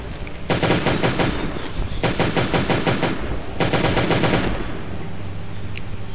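Armor-piercing guns in the game Last Day on Earth fire in three loud, rapid automatic bursts, each a dense rattle of shots separated by brief pauses.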